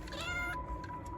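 A white Furby toy gives a short electronic cat-like meow, close and clear, then stops, leaving a steady tone and faint room noise.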